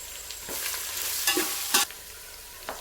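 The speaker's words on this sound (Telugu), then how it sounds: "అల్లం ఎల్లిగడ్డ పేస్ట్ వేసేయాలి మంచిగా ఫ్రై చేయాలి" Ginger garlic paste frying in a pan for egg biryani while a spoon stirs it, giving a steady hiss broken by several sharp scraping strokes against the metal, close and with no talk.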